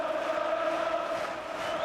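Football crowd at a stadium roaring and shouting together in a sustained, fairly distant wash of voices with no break.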